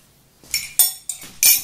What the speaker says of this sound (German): So, na gut, hier ist der Löffel, sehr schön.